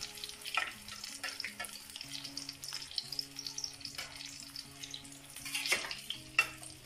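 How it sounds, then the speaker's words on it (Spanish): An egg-battered chile relleno stuffed with cream cheese fries in hot oil, giving a soft, steady sizzle with occasional crackles and spatters under light background music. "Se le echa arriba el aceitito para que se dore el huevito parejo. Con mucho cuidado porque el aceite está un poco caliente."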